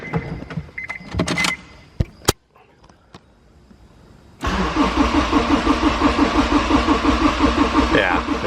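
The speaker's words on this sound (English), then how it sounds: "it's just gonna sit here and crank" A turbocharged Honda S2000 engine, hot and reluctant to fire, cranks on the starter with a steady rhythmic whirring pulse that does not catch, loud and close, preceded by a few clicks, clunks and a brief quiet moment.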